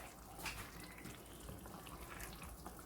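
Spinach leaves washed under a running tap for a palava sauce stew, a steady broadband splash of water with faint shifts as the leaves are moved, fairly quiet and close, with no talk.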